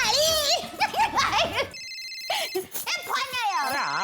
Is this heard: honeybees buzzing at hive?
no